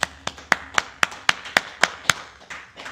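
A group of people claps in a steady, even rhythm, with about a dozen sharp, close hand claps landing roughly every quarter second and no talking.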